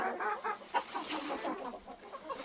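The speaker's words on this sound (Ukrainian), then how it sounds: "Це ще одна сім'я кохінхінів, це старших." Cochin chickens cluck softly and continuously as they eat, a close, busy flock with overlapping short calls and no talking.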